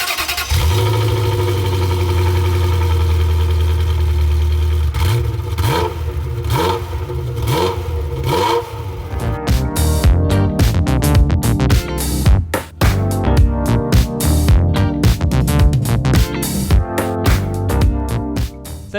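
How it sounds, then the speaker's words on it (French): A Ferrari F355 GTS engine starts and settles into a low, steady idle, then revs rise and fall a few times before building into a loud, dense, continuous running roar close by. "on est au volant d'une Ferrari F355"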